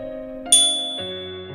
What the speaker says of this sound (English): the lobby desk had a bell that I could ring